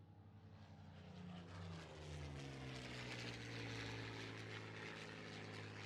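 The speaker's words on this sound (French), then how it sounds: "Le Spitfire, un avion de légende." Supermarine Spitfire propeller aircraft passing with a steady, loud engine drone whose pitch sweeps downward as it goes by, continuous throughout with no talk.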